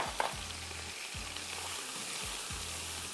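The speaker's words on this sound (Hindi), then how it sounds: "प्याज हमें लाल वाल नहीं करनी, सब आप इसको भूनेंगे कम से कम 5-7 मिनट" A cup of onions frying in a pan for chicken and vegetable pulao, a soft continuous sizzle with a few faint low rhythmic thumps underneath and no voices.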